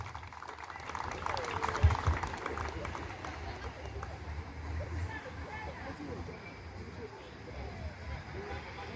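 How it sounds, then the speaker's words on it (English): A round of applause rises from a crowd gathered outdoors at a tree planting ceremony in Ghana's Bono Region. It sounds as steady, moderately distant clapping that swells briefly near the start, with voices mixed in. "Let's give it a round of applause"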